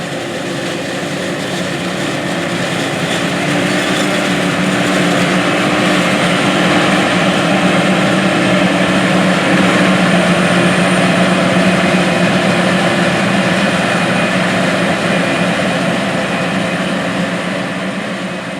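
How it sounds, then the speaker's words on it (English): A 616-horsepower John Deere 8600 forage harvester engine runs steadily on a western Kentucky farm, a loud continuous heavy diesel drone with a broad roar and a harmonic whine that stays constant throughout, with no voices. "hearing and learning about this big 616 horsepower John Deere 8600 forage harvester on this western Kentucky farm"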